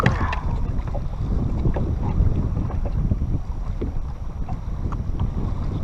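Gusty wind buffeting the microphone on a lake while fishing for smallmouth bass from a boat, a constant low roar with faint water and boat knocks and no speech.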